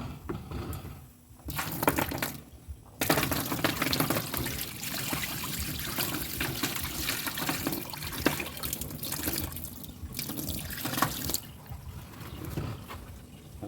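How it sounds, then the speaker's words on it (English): Water runs steadily during rinsing on a farm, a close continuous splashing and trickling stream that cuts out briefly near the start and again toward the end, with no voices. "I'm just kind of rinsing now."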